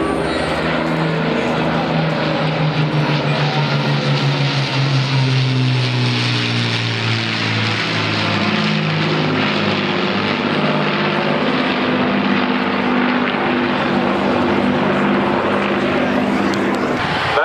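Aircraft engine roaring through a takeoff run on a big runway at the 2010 Farnborough airshow, a loud, steady drone with a rising tonal whine that persists throughout the clip.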